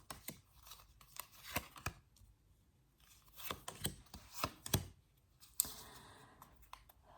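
Tarot cards are pulled and shuffled from a deck at close range, giving a run of sharp, quick papery snaps and slides in irregular bursts, with brief quiet gaps and no talk.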